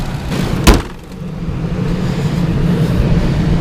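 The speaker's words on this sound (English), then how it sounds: "so we got the truck running" A truck engine that had been sitting idle runs with a steady low rumble after a sharp knock near the start, holding an even drone throughout with no talk.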